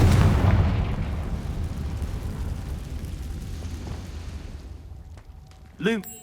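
A Confringo spell explodes in Hogwarts Legacy, a heavy booming burst at the start that decays into a long rumbling tail, followed near the end by a brief ringing magical chime.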